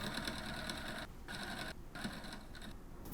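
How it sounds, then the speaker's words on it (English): A sewing machine stitches the seam between a men's shirt sleeve and cuff, a fast, steady whirring rattle up close, broken by two brief pauses. "Stitch in the seam between the sleeve and the cuff on the right side of the fabric."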